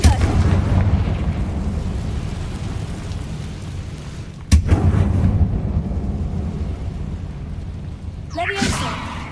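A Confringo blasting spell in Hogwarts Legacy goes off with a sharp, loud boom midway, followed by a rumbling, rain-like roar. A second whooshing burst comes near the end, all over a steady, dense background rumble.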